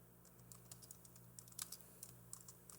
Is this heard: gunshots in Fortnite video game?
no